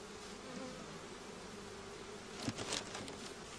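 A steady low hum of honey bees buzzing close by as two colonies are united, with a brief louder flurry of wings and movement near the end.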